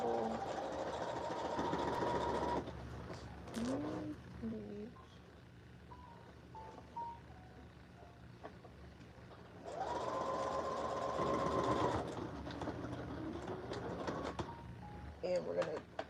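A sewing machine stitches costume fabric for a New Year's Eve parade costume in two bursts of steady mechanical whirring, close, with a quiet stretch between them and someone talking over and between the runs.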